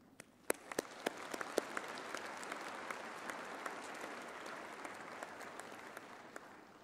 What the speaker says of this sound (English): I want to ask the audience to join me in applauding our graduates, our diplomates, and certificates for their significant achievements